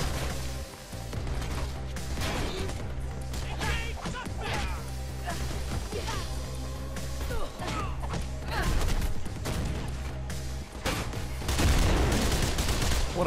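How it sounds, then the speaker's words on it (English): Gunfire rattles through a chase in the video game Mirror's Edge, dense bursts of rapid shots and impacts running almost continuously, loud and layered with game effects and music. "Random firing!"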